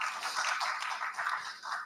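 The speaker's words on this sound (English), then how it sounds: "So a round of applause for the ambassador, please." Applause from a seminar audience for a visiting ambassador, a brief even patter of many hands clapping at moderate volume and fading toward the end, with no voices.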